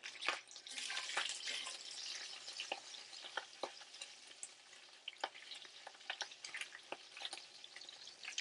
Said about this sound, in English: Don't burn your bacon.